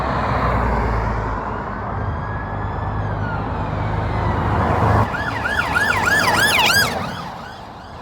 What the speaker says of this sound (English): Oh, these are sirens.